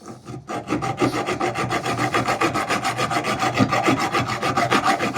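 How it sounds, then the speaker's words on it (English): A hand file rasps against a metal fuel tank in fast, regular back-and-forth strokes, loud and close with no talking. "I don't know how far I've got to file here."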